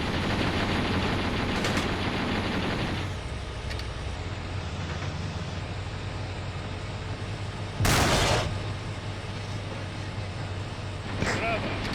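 Tank cannon and machine-gun fire from a T-62 in Steel Armor: Blaze of War, discharged on the move in Afghanistan over a constant engine rumble, with a sharp loud burst near the middle and a smaller one at the end, voices faintly underneath.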